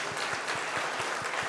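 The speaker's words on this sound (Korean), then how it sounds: "우리 박수 한번 드립시다" A standing church congregation applauds during Sunday worship to welcome new members: a dense, even wash of many hands with faint regular thumps, moderately distant and continuous.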